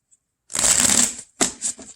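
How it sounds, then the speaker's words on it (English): Tarot cards being shuffled close up: a long dense riffling burst, a short pause, then two shorter shuffles, with no talking. "Let me get a good shuffle."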